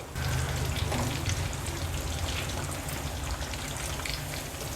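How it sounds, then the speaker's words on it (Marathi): Potato vadas deep frying in hot oil on medium to high heat, a steady dense sizzle and bubbling that holds close and even throughout, with no talking. "आता मीडियम टू हाय वर व्यवस्थित ह्याला उलत पालत करून एक तीन ते चार मिनिटासाठी तळून घ्यायचे आहेत"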